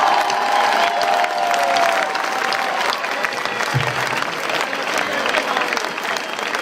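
A crowd applauds steadily and loudly at a newly elected mayor's speech, with dense, continuous clapping for about seven seconds and a faint voice briefly audible at the start.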